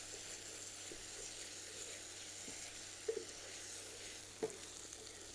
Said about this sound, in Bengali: মশলার সাথে খুব ভালো করে আমি টমেটোটাকে কষিয়ে নিব।